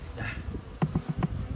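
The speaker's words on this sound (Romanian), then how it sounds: "O să desfac acest roi. Nu o las eu acolo. Moare prea mult albine." Honeybees buzz close by at a beehive where a swarm has gathered, a dense hum broken by a few sharp, quick wing bursts.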